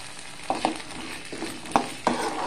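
Beans and peanuts frying in a pan, with a steady low sizzle broken by a few sharp scraping stirs at irregular intervals, close by and moderately quiet, no voices.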